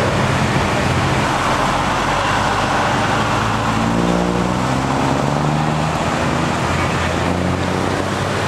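Ferrari F430 driving past, a loud broadband roar of passing traffic with a rising then falling engine tone as the car goes by, overwhelming the surroundings.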